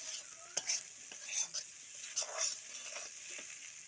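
Cumin seeds and chili crackle in a hot pan for a tempering. A soft, close sizzle carries a series of sharp pops and spatters in an uneven rhythm.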